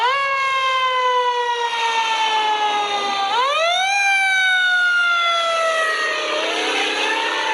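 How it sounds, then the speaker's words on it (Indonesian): Toy fire truck siren wailing steadily and loudly on its own, its tone sliding down, jumping back up and dropping again. "ternyata mobil pemadam kebakaran"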